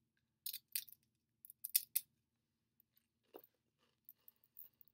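Crisp crunches of Taco Bell nacho chips being chewed close to the mic, a few sharp bursts of crunching in uneven bites followed by fainter, softer chewing.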